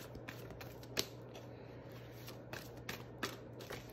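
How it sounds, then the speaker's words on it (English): A deck of cards being shuffled by hand during a card reading, heard as faint, close riffling clicks and soft flutters repeating irregularly over a quiet background hum. "put it to the deck while I shuffle"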